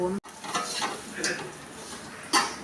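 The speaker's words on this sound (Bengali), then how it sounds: "সিমুইটাকে এবারে খুব ভালোভাবে কড়াইয়ের মধ্যে নেড়ে চেড়ে একদম ভাজা ভাজা করে নেব।" Lachha vermicelli is stirred and fried in ghee in a kadai, with a low sizzle broken by several sharp scraping strokes of a spatula against the pan, close and fairly loud.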